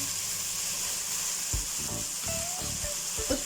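Chicken pieces frying in a pan with chili flakes for Kerala dry roasted chicken, a steady loud sizzle with stirring clatters and scrapes in the second half, no voices.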